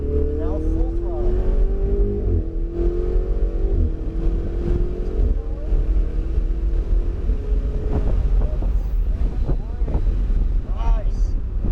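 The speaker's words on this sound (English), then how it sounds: "This is that longest straightaway again. And now full throttle." A Ferrari 488 GTB at full throttle on the long straight at Englishtown Raceway Park, its engine note rising steadily and loud throughout, mixed with heavy wind buffeting, while a person talks over it.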